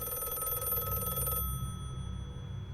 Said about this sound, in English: Answer the phone, James